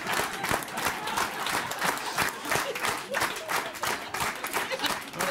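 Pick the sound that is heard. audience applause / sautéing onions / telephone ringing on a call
audience applause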